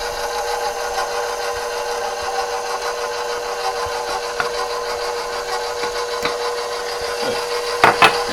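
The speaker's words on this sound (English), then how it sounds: "Turn our mixer on." Stand mixer kneading bread dough for homemade hoagie bread, a steady continuous motor whir with a rubbing, slapping texture, running alone without talk and a few louder knocks near the end.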